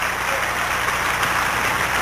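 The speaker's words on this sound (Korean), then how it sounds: "박수치며 하나님께 영광 받으십시오" A church congregation at a New Year blessing revival service claps together, a loud, dense, continuous burst of hand-clapping with no talk over it.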